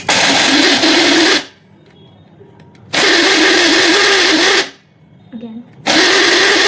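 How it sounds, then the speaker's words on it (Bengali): A blender crushing Oreo biscuits runs in three loud, whirring bursts of about a second and a half each, separated by quiet pauses that carry faint rattling. "সব থেকে বেশি আমি হচ্ছে এক্সাইটেড তোমাদের আমার ব্লেন্ডারের আওয়াজ শোনার জন্য"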